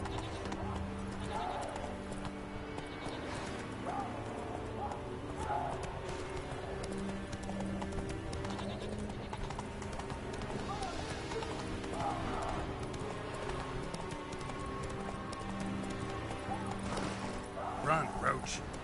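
Roach, Geralt's horse in The Witcher 3, trots along with a steady clip-clop of hooves and occasional snorts, under a faint game ambience and bits of talk.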